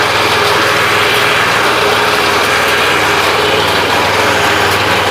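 A small walk-behind reaper machine that runs without a tractor, demonstrated cutting a crop close to the ground in a farm field: loud, steady, buzzing engine drone, close by and continuous, with no talking.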